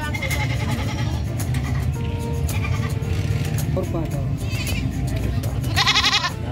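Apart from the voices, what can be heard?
goats bleating at San Carlos livestock market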